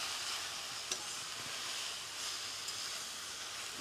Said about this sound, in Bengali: নাড়া চাড়া দিয়ে এখন একটু ঢেকে দেবো তো পাঁচ শাক তো না ঢাকলেও হয়